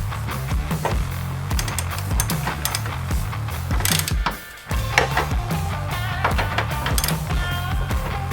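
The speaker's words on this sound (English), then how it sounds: "socket wrench and tighten them all down." A ratchet socket wrench tightens bolts with a 21mm socket in steady, close clicking strokes that run almost continuously, with one short pause partway through.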